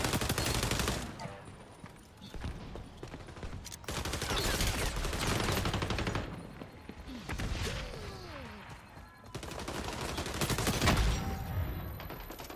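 Gunfire in the video game XDefiant, automatic weapon bursts coming in several loud stretches separated by brief lulls, close and dense, with voices underneath.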